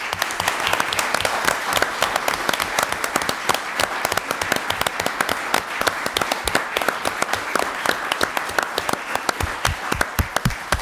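At a Bridgewater Town Council meeting, an audience gives a sustained round of applause for a youth team's coaches: dense, even clapping from many hands, loud and continuous for the whole stretch with no talking over it.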